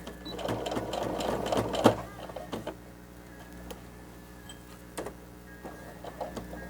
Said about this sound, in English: So you are going to stitch directly on this line. And don't forget your back stitching.